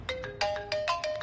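A phone ringtone chirps in a quick repeated pattern of bright electronic tones, fairly close and clear, with no talk over it.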